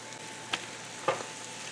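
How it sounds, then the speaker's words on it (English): Seasoned, flour-dusted pork chops in a pan give a faint, steady sizzle, with two brief louder crackles or utensil touches. "you can hear it starting to sizzle"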